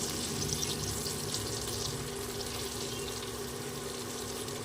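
Chopped onion and slit green chillies fry in a pan for a tengra fish curry with brinjal. A continuous, close, moderately loud sizzle with crackling spatter holds steady throughout, with no talking.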